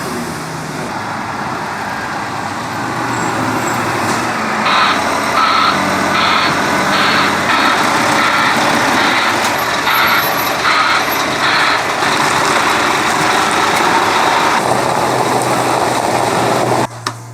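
A vehicle engine ticks over at idle with a steady, loud drone and a light metallic timer chain rattle running through it, sustained throughout with no voices.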